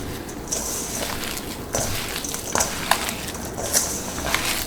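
Chicken and drained boiled potato mixed together by hand in a bowl, giving soft squishing, crushing textures with a few sharper squelches, close and steady throughout.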